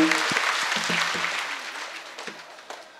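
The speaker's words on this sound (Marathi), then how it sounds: "जोरात टाळी वाजवायला सगळे." Audience at a Varkari kirtan clapping loudly together, a dense burst of applause that gradually thins out, with a few voices heard over it.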